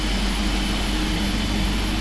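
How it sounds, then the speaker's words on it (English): A Boeing 777-300ER jet engine spools up in the FSX PMDG simulator, a loud, steady roar and whine filling the sound, heard close with no talking. "Engine is coming up now."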